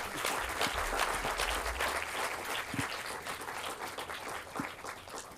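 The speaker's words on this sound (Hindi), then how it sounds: "सबकी ओर से एक ताली और हो जाए।" Audience applause at a book launch in Pune, sustained, even clapping from a seated crowd that holds steady throughout at moderate volume, with no talk.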